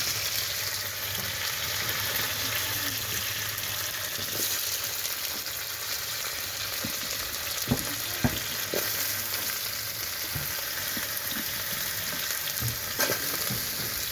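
Tomato, beans, potato and chilli fry in a pan, a continuous sizzling crackle with occasional stirring scrapes and clinks, close and steady.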